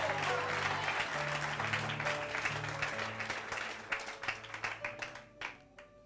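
A church congregation breaks into sustained applause and cheering during a sermon, dense clapping that thins into scattered claps toward the end.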